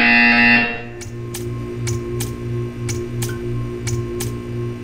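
A repeating buzzer from the video game Portal 2 pulses at a steady, even rhythm after a brief tone, sounding loud and clear with no talk over it.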